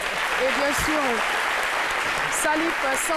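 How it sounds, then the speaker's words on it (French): Studio audience applause at the MASA 2018 arts market, a steady, dense wash of clapping running for the whole few seconds underneath a voice speaking over it. "On l'applaudit très très fort."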